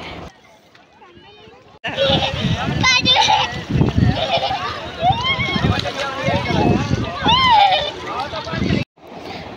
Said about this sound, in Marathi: बघा कशी उड्या मारत आहे पाण्यामध्ये